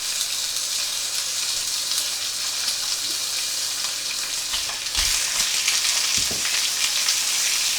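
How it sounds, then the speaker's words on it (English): Sous vide pork frying in a pan, a steady close sizzle running throughout, with a couple of soft knocks or stirs near the end. "So just fry it off."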